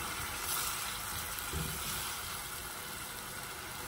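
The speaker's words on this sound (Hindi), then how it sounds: "ये थोड़ा सा मैंने पानी डाला है" A little water is poured into a pan of chicken cooking with chana daal, a soft, steady sizzle and hiss at low level with no talk.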